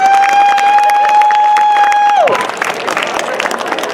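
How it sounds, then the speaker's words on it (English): Crowd at a Black Joy Celebration in Seaside, California clapping and cheering, starting under a sustained feedback-like whistle that bends downward and cuts out, then continuing as loud, busy applause with shouts. "One big round of applause"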